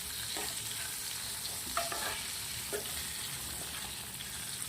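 Stuffed capsicums for bharela marcha shaak cooking on a low flame, a faint steady sizzle with a few soft scrapes and taps from stirring, quiet and without voices.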